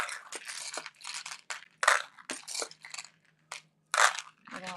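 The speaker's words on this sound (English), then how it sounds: "next up we have these pink beads" Pink plastic beads being handled, a string of crisp rattling and clicking bursts at irregular intervals with short pauses between, fairly close and clear.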